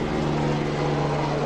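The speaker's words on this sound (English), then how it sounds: "let's let this helicopter go by that has been flying around" A helicopter flying around overhead, heard as a loud, continuous, steady engine and rotor drone that fills the whole stretch without a break or any talk.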